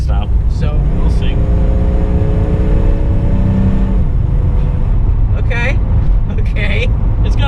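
Steady loud engine and road drone from inside a moving AMC Eagle car, with a low rising engine tone early on and a person talking over it.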